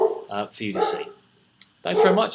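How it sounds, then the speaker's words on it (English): A dog barks in the background of a room while someone talks close up over it, with a short quiet gap partway through. "That's my dog's barking in the background"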